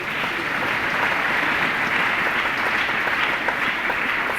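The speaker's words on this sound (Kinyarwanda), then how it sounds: "Imana ikomerwe amashyi cyane." Church congregation applauding, a dense, steady burst of many hands clapping together at moderate distance, sustained throughout with no speech over it.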